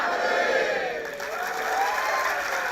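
Student audience in a campus auditorium shouts a cheer together, a loud, massed roar of voices with whoops that holds steady without a clear break.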